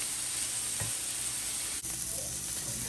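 Peppers and onions frying in a pan at medium heat, making a soft, even sizzle and hiss that runs steadily throughout, fairly quiet, with a couple of faint stirring bumps and no talk.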